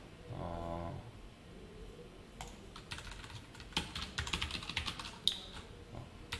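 Code is typed on a computer keyboard during a JSP programming lesson: quick, uneven clusters of close key clicks and taps, with a low hum at the start and no talk.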